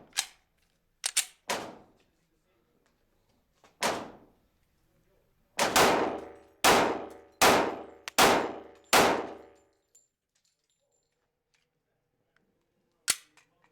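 Glock 36 pistol test firing at a range, sharp loud gunshots with ringing decay, a few scattered single shots, then a quick string of five in a row and one final shot.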